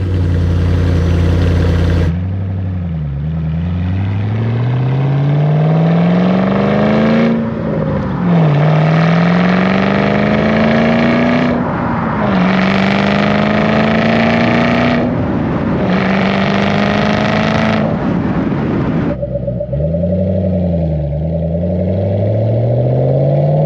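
A 2011 Mustang Shelby GT500 engine with MBRP exhaust roars to life loud and close, then revs repeatedly, pitch climbing through each rise before dropping back to a rumbling idle.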